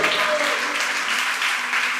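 A church congregation applauds for Jesus, a steady wash of clapping for a couple of seconds, with faint voices mixed in.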